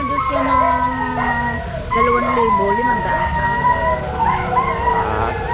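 Dogs howling at night in a rural Philippine setting, several long wavering howls overlapping and rising and falling close by, with other voices talking faintly underneath.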